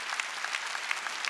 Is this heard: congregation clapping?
yes